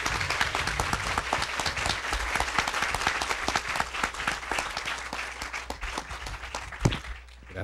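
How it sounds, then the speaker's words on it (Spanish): Audience at a university lecture bursts into sustained clapping, dense and fairly loud, holding steady for about seven seconds before tapering off at the end. "quisiera pedirles que le brindemos un aplauso para cerrar"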